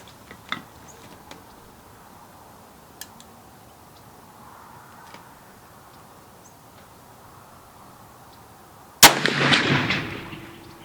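A single loud rifle shot from a Wyoming Armory custom 1885 single-shot rifle cracks out after a long stretch of quiet outdoor ambience with faint ticks, followed by a decaying rumble of echo.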